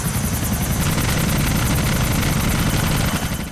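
Helicopter in the video game GTA, a loud continuous rotor thump with a rapid, steady blade chop and engine whine, close and constant with no talk.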